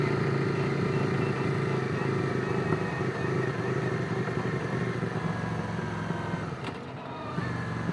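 A Yamaha Virago 535 motorcycle rides along with a steady, loud engine drone and wind rumble throughout, with a brief sharp disturbance near the end and no speech.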